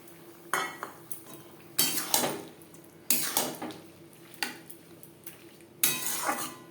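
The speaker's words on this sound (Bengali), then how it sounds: "লাউর সাথে মাছ বেশ ভালো করে মিক্সড করে দেব" Prawns and boiled bottle gourd are mixed in a spiced pan with a metal spoon, producing repeated loud scraping and clanking strokes in uneven bursts, close and without voices.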